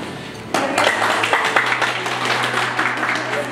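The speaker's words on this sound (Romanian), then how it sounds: "Tradițional, cei care votează pentru prima dată sunt însoțiți de aplauze." A polling station crowd applauds a first-time voter in Bălți, a burst of scattered clapping that starts suddenly and carries on steadily, moderately loud, with voices mixed in under it.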